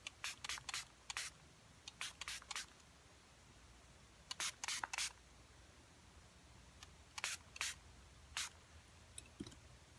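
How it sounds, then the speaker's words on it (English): Aloe water sprayed onto hair from a pump spray bottle, in quick bursts of sharp hissing pumps, several in a row, then pauses, close and fairly quiet with no voice. "I'm going to spray it with some aloe water again."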